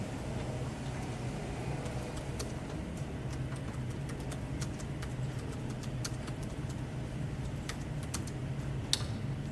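Computer keyboard typing, rapid irregular clicking keystrokes over a steady low background hum, fairly close and moderately quiet, no speech.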